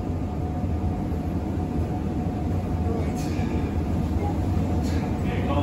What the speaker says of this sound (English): Shuttle is departing.